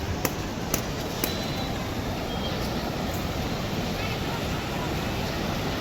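Deep flowing river water at Panchavati Ganga Ghat in Nashik gives a constant broadband rush, with a few sharp knocks near the start and no voices.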